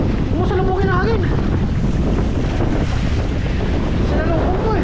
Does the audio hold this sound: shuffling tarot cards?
no